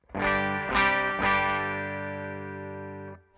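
A single sustained electric guitar chord through a Hello Sailor Effects FreeRange fuzz pedal on the bridge pickup, struck a few times, ringing out thick and buzzy before cutting off.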